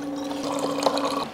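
Water runs steadily from a Samsung refrigerator dispenser into a container for about a second, a close, trickling pour with a faint hum behind it.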